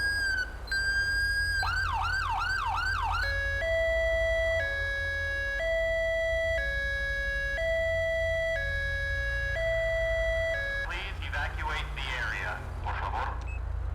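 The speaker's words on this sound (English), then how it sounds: "So the newer cars have the newer sirens." Police siren on a slick-top 2020 Ford Explorer in a FiveM GTA roleplay server, cycling through a wail, a fast yelp, then a steady two-tone hi-lo pattern and a rough final tone, loud and close under a continuous engine rumble.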